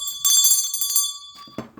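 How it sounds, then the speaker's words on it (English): A small bell rings close by with a bright metallic chime and rapid repeated strikes, then its sustained tone fades out with a couple of soft knocks at the end. "I forgot the bell."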